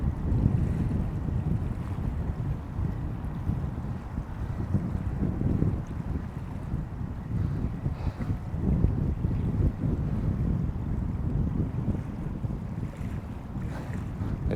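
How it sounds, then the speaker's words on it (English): Strong head-on wind buffets the microphone on a coastal shore during a bass lure fishing session, a steady low rumbling roar with gusty surges and faint wave wash beneath, no voices. "And that head-on wind's not helping."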